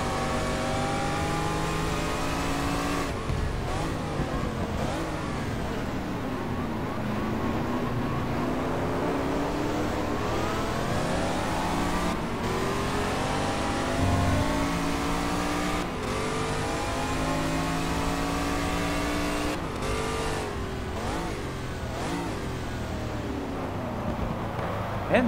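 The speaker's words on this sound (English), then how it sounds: "Oops, almost losing the car there on acceleration." DeTomaso Pantera race car in GT Legends, its engine revving hard and steadily through the gears, with rising and falling pitch sweeps as it accelerates, loud and continuous.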